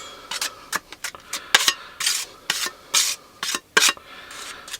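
Wall filler being mixed with a scraping knife, giving short, repeated gritty scrapes and rasps in an uneven rhythm, close and fairly clear with no talking.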